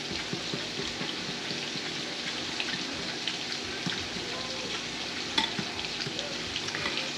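Pork chops frying in a pan give off a steady sizzle while a small whisk stirs through them, with faint scraping and clinking under a continuous crackle.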